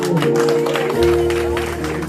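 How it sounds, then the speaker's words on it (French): A church congregation claps along at a Haitian Baptist conference service, a steady sustained wash of applause blended with music and voices throughout. "On applaudit."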